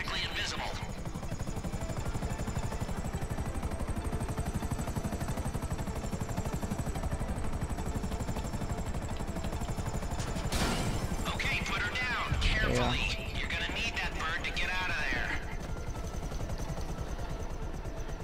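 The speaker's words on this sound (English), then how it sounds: "This is a stealth chopper, but it's oh, no, no. It still is a chopper." A stealth helicopter in GTA 5 drones with steady rotor noise throughout, with a crash and clattering impacts partway through and people talking over it.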